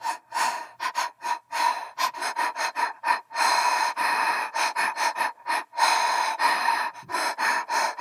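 Recorded human breathing for a music sample library, heavy and rhythmic: sharp gasping inhales and forceful exhales in quick bursts, close and loud, with short pauses between groups of breaths.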